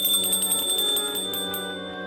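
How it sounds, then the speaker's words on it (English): A small bell jingles as a diner door swings open, a bright shimmering ring with repeated tinkles that fade over about two seconds, close and alone. "As the door opened, she could hear a small bell jingle."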